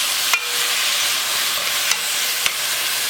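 A spoon stirs tomato sauce through a pot of black beans, rice and ribs cooking on the stove, a steady sizzling hiss broken by a few soft clinks of the utensil against the pot.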